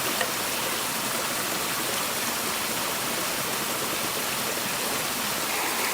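A freshwater rainforest stream flows steadily and continuously, a dense, even rush of water that holds close and loud throughout with no voices over it.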